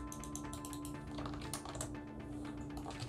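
Keyboard and mouse played on a games console, heard as a steady stream of quick, close keyboard taps and clicks over a constant background hum, with no talking.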